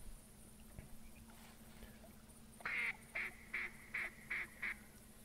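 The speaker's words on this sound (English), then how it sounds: "I hear more ducks." After a few seconds of quiet ambient background in The Hunter Classic hunting game, a run of six duck quacks arrives in quick regular succession, clear and fairly close.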